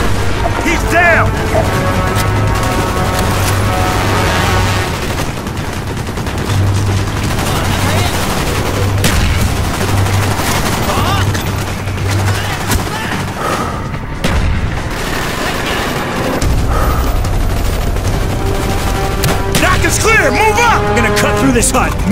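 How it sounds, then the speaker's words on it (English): Gunfire and a grenade blast in the Call of Duty Black Ops mission Victor Charlie, with rapid bursts of shots, booms and crashes over a continuous battle din, while soldiers' voices call out through much of it. "Someone drop a nade in the hole."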